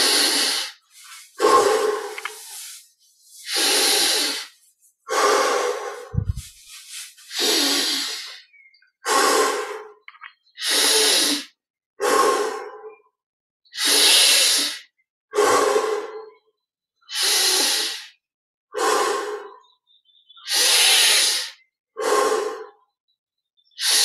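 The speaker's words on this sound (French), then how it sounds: "Inspire par le nez, expire par la bouche." Slow, deep breathing for guided meditation, inhaling through the nose and exhaling through the mouth, about a dozen even, close breath cycles repeating steadily with no one talking.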